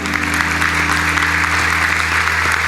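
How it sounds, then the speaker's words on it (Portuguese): A church youth theatre audience in São Leopoldo claps loudly and continuously, a dense wash of applause over a steady low hum, lasting under three seconds. "palmas bem fortes para Jesus Cristo"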